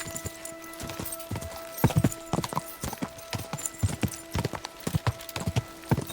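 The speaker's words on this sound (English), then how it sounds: "That's Gerald's horse, right?" Horse hooves clip-clop in a steady trotting rhythm in the video game Kingdom Come: Deliverance II, crisp and close, with a faint tonal hum behind them.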